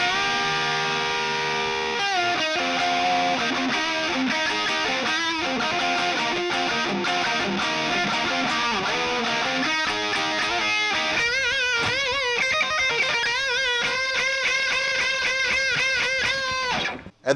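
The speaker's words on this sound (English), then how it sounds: "At the beginning of that, it sounded kind of like a country lick, but those are all double stops." Distorted electric guitar solo built on double stops, opening with a country-style lick before moving through rock-blues phrasing; loud, unbroken playing for about seventeen seconds with no voices.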